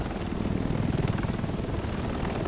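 A helicopter arrives in the video game Tom Clancy's The Division, its rotor chop pulsing steadily through a loud, low engine drone with no speech over it.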